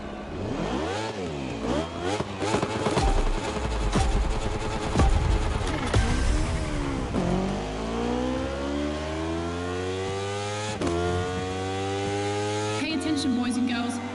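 A motorcycle racing engine in The Crew Motorfest, Red Bull Speed Clash event, screams through rapid gear shifts, climbing in pitch again and again as it revs hard and accelerates, loud and close, with a voice talking underneath.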